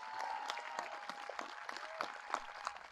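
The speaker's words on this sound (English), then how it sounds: "Let's give our graduates a round of applause." Graduation audience applauding at a high school ceremony, a faint, distant spatter of many hands clapping that carries on steadily for a few seconds.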